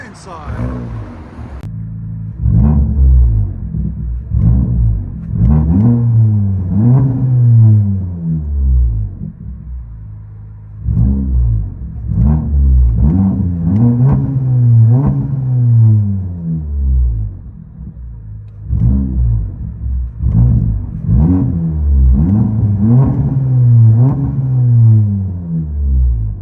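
Heard from inside the cabin, a 400HP VW GTI with aftermarket exhaust idles with a deep droning rumble, then revs repeatedly in muffled booming sweeps, several rising and falling bursts spaced across the stretch.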